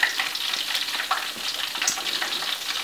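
Thai fish cakes (tod mun pla) fry in hot oil, giving a loud, steady, close hiss and bubbling crackle that runs throughout with no voices.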